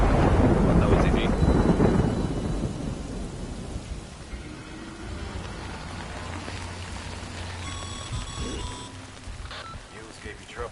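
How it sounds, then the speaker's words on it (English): A loud thunder rumble opens the scene in Death Stranding, then rain patters steadily as the rumble fades, and a few faint tonal game sounds come in near the end. "Good thing it was raining."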